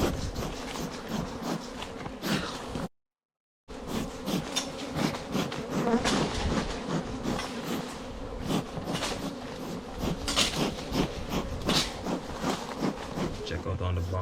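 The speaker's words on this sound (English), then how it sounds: "there's so many bees" Honey bees swarming around a hive in a mango tree, a dense continuous buzzing hum with a brief dropout, heard close with some faint talk underneath.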